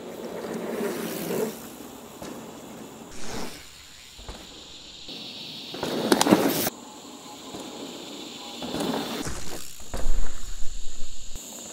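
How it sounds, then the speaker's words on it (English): Cicadas buzz in a steady, high drone along a mountain bike trail on Mt Narra, with louder bursts of tyre and trail noise rising and fading over the top. "Sorry about the cicadas, it's just ridiculous."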